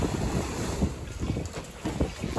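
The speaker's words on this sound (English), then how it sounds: "they're getting gusts of around about 30 to 32 knots" Strong wind gusting around 30 to 32 knots buffets the microphone on a sailboat offshore in heavy seas, in rushing gusts, with water and boat noise beneath, loud and continuous.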